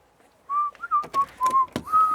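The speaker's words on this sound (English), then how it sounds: "I can hear the ice cream van" An ice cream van's chime plays a short tonal melody of sustained notes, moderately loud, with a few sharp clicks and knocks between the notes and no talking.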